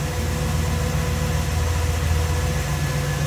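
A 1966 Chevrolet Caprice's 327 V8 idles smoothly with a steady, low, even rumble and a faint hiss, close by and without talking.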